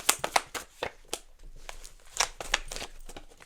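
Cards being shuffled up close, a quick run of sharp riffling and snapping bursts that stop and start again, quiet and without any talk.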